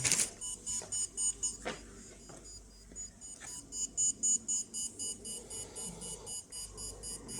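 A Geiger counter dosimeter's alarm buzzer beeps in a rapid repeating pattern as a radiation source is brought near, loud and close, the pulses pausing briefly before resuming in quick bursts.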